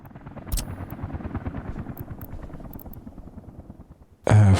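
A helicopter in Workers & Resources: Soviet Republic makes a steady, choppy rotor drone at moderate loudness, with a sharp louder burst near the end.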